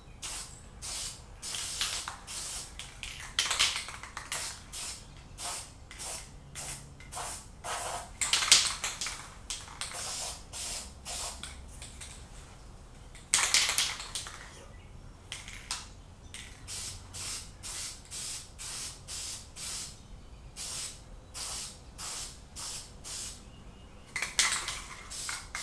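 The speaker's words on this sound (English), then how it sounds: "make sure you use your khaki spray paint" Khaki spray paint hissing from an aerosol can onto an airsoft gun in a run of short, close bursts with brief gaps, some bursts longer and louder than others.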